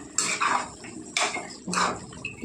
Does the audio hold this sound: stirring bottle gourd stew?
yes